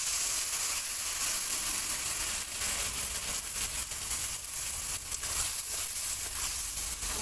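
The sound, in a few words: spice paste mixed with water sizzling in pan with potatoes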